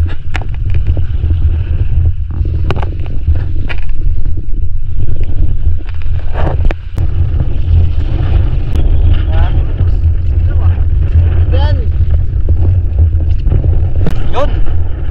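A motor boat runs at sea in a strong monsoon wind, its engine drone steady and loud underneath heavy wind buffeting, with people talking over it now and then.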